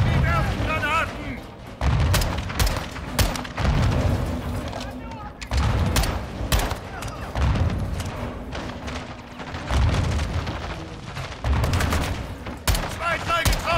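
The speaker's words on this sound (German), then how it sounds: "Die werfen Granaten!" Grenade blasts and heavy gunfire in the video game Call of Duty Modern Warfare 2, with dense volleys and booming explosions throughout while shouted voices cut in over the battle.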